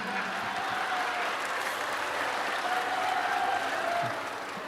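Audience applause at a religious talk in Indonesia, a steady wash of clapping heard from a distance, even and sustained throughout before easing slightly near the end.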